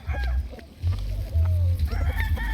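Chickens in a small backyard farm in Barangay Punta, Tanza, Cavite, with a rooster crowing and hens clucking close by over a steady low rumble, a few short calls and one longer drawn-out crow.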